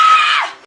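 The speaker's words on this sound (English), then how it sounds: "He just yelled." A man yells once, a loud, close, sustained cry that trails off and cuts out, with no other sound around it.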